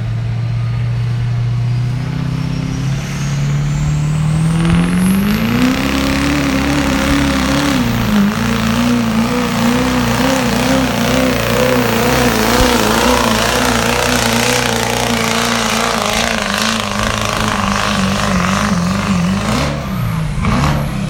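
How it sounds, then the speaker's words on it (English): A turbocharged race car idles, then revs hard and accelerates down a drag strip, its loud engine roar climbing steadily in pitch and holding near and powerful for about twenty seconds. "going to crank up his turbocharger and let her rip here"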